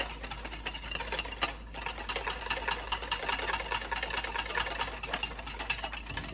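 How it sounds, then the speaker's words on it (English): Egg yolks being whisked for hollandaise, a fast steady metallic clatter of whisk against bowl, close and continuous with a brief pause early on. "Keep whisking."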